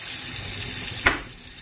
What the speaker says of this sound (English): I'm using hot water right now just to kind of get that out of there.